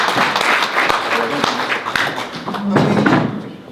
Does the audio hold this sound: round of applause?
yes